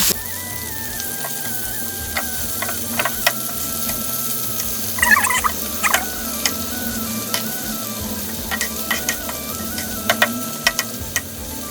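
Fried chicken pieces cook uncovered in a pan to crisp up, giving a steady broadband sizzle with scattered sharp pops and crackles throughout, heard close and alone.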